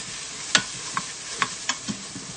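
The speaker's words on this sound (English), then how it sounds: "Now I'm going to stir this." Vegan chili mac and cheese is stirred in a quick cooker pot: a handful of scraping spoon strokes over a soft sizzle, close by and without speech.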